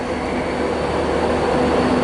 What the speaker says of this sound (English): arriving now is a 1744 Virgin Trains East Coast service from London King's Cross to Edinburgh